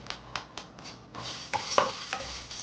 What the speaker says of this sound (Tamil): கொள்ளு நல்லா வறுபட்டுருச்சு.